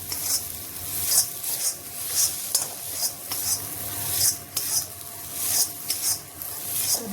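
A spatula stirring and scraping thick masoor dal bharta around a wok, making repeated rhythmic rasping strokes about once a second over a soft sizzle, close up, with no voices.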